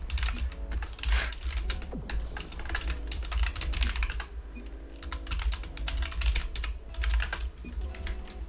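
Rapid clattering keystrokes on a computer keyboard during a Rocket League session with friends, close and steady, in bursts of typing over a low background hum.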